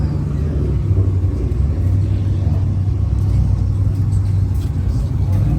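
Cadillac CT4 Blackwing parked at a cars and coffee meet, its engine idling with a steady low rumble and a few mild rises in pitch throughout, close by, with outdoor crowd noise around it.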